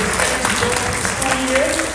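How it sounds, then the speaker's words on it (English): An audience claps at a high school 12th grade orientation evening, a dense, continuous wash of applause with a voice speaking over it throughout. "Let's give yourself a round of applause coming out tonight."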